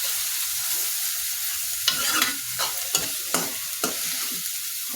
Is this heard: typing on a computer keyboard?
no